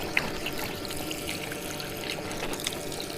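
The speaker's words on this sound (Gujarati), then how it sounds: "બોરે નવો બના હે પાણી હજી ડોળું જ આવે" Muddy water flows from a newly drilled borewell, making a soft, steady rushing trickle with small splashes, heard faintly and up close with no voices.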